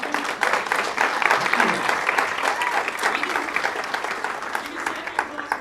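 A graduation crowd at a Canine Companions ceremony applauds a veteran, steady clapping across the room with some voices mixed in beneath it.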